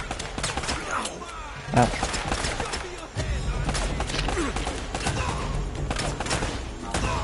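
Enemy gunfire in Uncharted: The Nathan Drake Collection, dense bursts of shots and rattling fire filling the scene continuously, with one heavier thump and a brief voiced exclamation amid the shooting.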